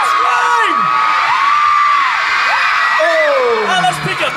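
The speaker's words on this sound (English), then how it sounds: "Okay, my side, scream! This side, scream!" A large convention crowd screams and whoops continuously, loud and close, with overlapping high yells and cheers filling the whole stretch.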